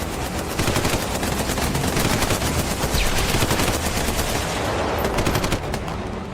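Sustained machine gun fire laying down cover in a wartime audio drama firefight, dense rapid bursts of shots running continuously and loud for several seconds, then easing off near the end.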